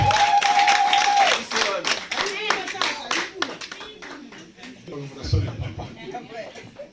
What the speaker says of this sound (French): Acclamation de très très très fort.